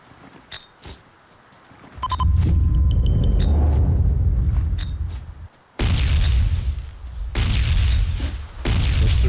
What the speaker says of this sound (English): Just threw 7 grenades.